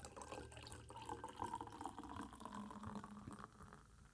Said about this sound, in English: all we're gonna do is top it up with champagne, Prosecco